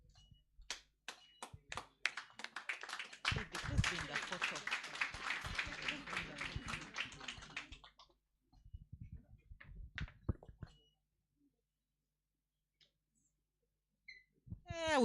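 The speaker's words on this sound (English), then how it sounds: "We would continue clapping." Audience at a national inter-university constitutional law moot court competition bursting into applause, a dense stretch of clapping swelling then fading, followed by scattered claps and a few later sounds.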